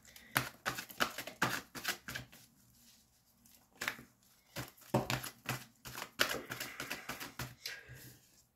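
Tarot cards shuffled and drawn from the deck, bursts of rapid papery riffling and flicking up close, broken by a quieter pause in the middle before the clicking shuffle resumes, with no voices.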